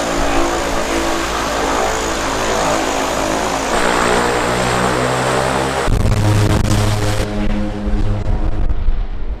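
A small propeller plane lands at Lukla airport, its engine roaring loud and close with a steady drone, then shifting pitch and surging as it slows on the runway.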